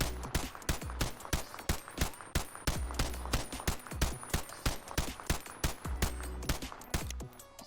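Staccato XC pistol fired rapidly in the VR game Bonelab, a steady stream of sharp, close gunshots at a brisk, even pace, about three per second, heard alone and loud.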